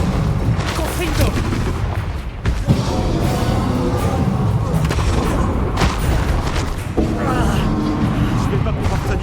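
The Confringo blast spell is cast in the Hogwarts Legacy video game, giving loud booming bursts and impacts amid continuous game combat noise, with a voice talking over it throughout.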